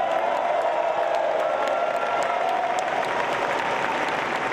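A crowd at the AIDS LifeCycle opening ceremony applauds steadily, a dense wash of clapping with a few cheers mixed in, sustained throughout.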